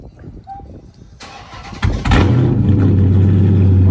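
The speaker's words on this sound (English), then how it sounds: "let's get on with this cold start" Dodge Charger SRT-8 cold start: a starter cranks briefly, then the engine fires with a loud burst and settles into a deep, steady, rumbling high idle, very close.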